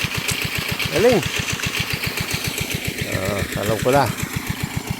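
A farm machine engine chugs in a fast, even rhythm of regular pulses close by, running steadily throughout while someone talks over it.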